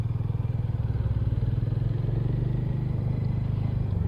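A Hero Hunk 440 motorcycle rolls in to park, its engine holding a steady, low, throbbing idle-speed pulse close to the listener, with no voices.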